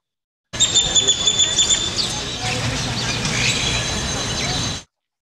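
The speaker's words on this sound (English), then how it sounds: "go ahead and just listen to all the bird chatter that's going around in this tree" Dense bird chatter from a large tree in southern Mexico, many overlapping chirps and calls forming a continuous busy chorus with a slight noisy hiss throughout.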